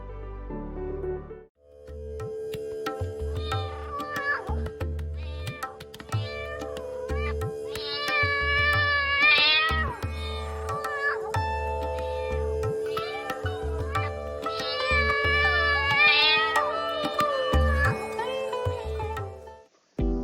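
A pet cat meows over and over in a Tokyo apartment. The cries are loud, close and drawn out, with long rising and falling wails that come in repeated bursts through most of the stretch.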